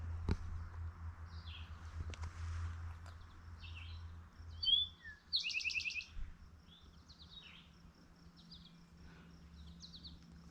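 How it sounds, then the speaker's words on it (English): A small bird sings from a tree on a mountain trail, faint, scattered chirps and short phrases with one brighter burst in the middle, over a quiet low outdoor hum. "on this tree right in front of me where that bird is singing"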